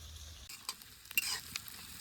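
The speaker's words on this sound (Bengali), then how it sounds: "প্রথমে দেখুন এখানে গোটা গরম মশলা দিয়ে দিচ্ছি, তারপর পেঁয়াজটা দিয়ে দিচ্ছি" Onion and whole garam masala sizzling in a black kadai over an outdoor village fire, with a soft frying hiss and a few light stirring clicks at close range; no talking.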